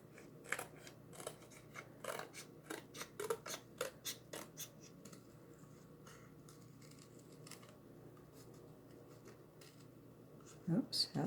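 Scissors make a rough cut through material for a reusable white board and base craft: a run of close, crisp snips in quick rhythm, then a pause before a few more snips near the end.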